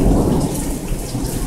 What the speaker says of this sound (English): Back to the rain.